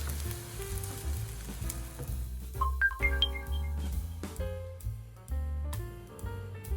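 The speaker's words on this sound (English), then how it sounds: "Pour in the beaten egg." Beaten egg poured into a hot pan greased with a little vegetable oil, giving a bright continuous sizzle and crackle along with scattered clinks and scraping as the egg is stirred into a soft scramble.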